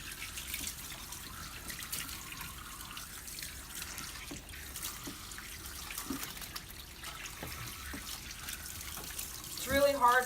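Water runs and drips while conditioner is rinsed through a poodle puppy's hair during grooming, a soft, close trickling with scattered splashes, faint throughout and briefly louder near the end.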